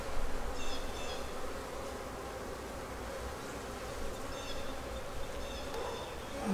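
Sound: honey bees buzzing during a beehive inspection

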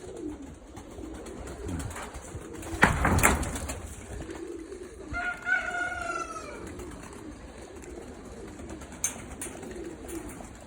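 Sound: pigeons cooing

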